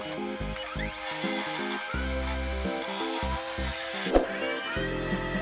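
An eyeglass lens edging machine cuts a lens in a basic processing pass, grinding in stepped, rhythmic pulses with a whining high tone above, and one sharp click near the end.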